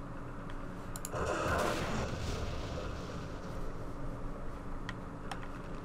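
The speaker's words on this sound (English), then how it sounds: "That's probably a recoilless rifle based on that distance." Distant heavy gun fire in a Vietnam War strategy game, likely a recoilless rifle, a muffled boom swelling around the first two seconds, then faint ticks and low rumbling background.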